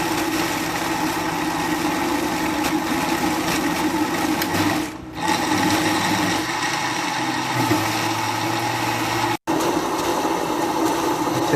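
A blender grinds milk, fruit and ice into a milkshake with a loud, steady, close motor whir that runs almost continuously, dipping briefly before cutting out for a moment near the end.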